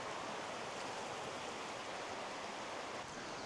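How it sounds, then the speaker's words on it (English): A river or creek rushes steadily beside a campsite in Arizona's rain-soaked White Mountains, a continuous broadband wash of flowing water heard close and alone, with no breaks. "you can hear the river or the creek, whatever you want to call it, very clearly"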